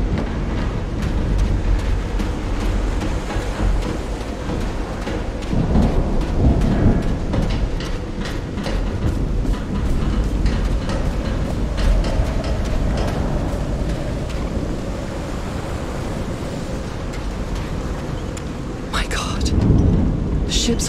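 Thunderstorm with steady heavy rain in the video game Call of the Sea, a dense continuous roar of rainfall with rumbling thunder swelling several times, loudest near the start, middle and end, with no talk.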